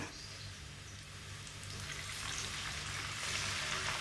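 Water poured into a wok of tempeh and garlic frying in a Tefal pan sets off a loud, continuous hiss and sizzle that builds slightly over a few seconds, heard alone.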